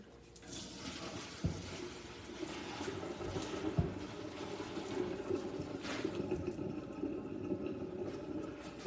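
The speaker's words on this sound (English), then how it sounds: "Let me drain this off." Hot pasta cooking water poured off into a kitchen sink, a steady gushing splash running for several seconds with a couple of clunks from the pot partway through.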